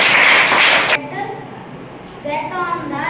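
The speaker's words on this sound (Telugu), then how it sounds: "Very good. క్లాప్స్ అందరూ." Schoolchildren in a classroom burst into a short round of clapping that lasts about a second, then a voice speaks over the quieter room.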